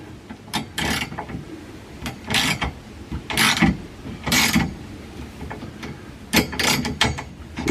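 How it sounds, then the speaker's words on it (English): Ratcheting and mechanical clicking while a nut is backed out during installation of a GMG harness bar in a 991.2 Porsche GT3 RS, loud, close bursts of metallic clicks separated by brief pauses. "when it starts to bind up, you back out the nut a little bit"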